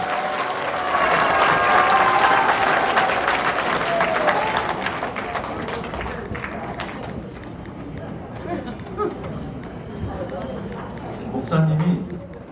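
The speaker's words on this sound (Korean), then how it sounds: "박수로 환영해 주시기 바랍니다." Audience applause welcomes a speaker at a theology school lecture, with loud dense clapping that gradually fades, followed by scattered room noise and a brief voice.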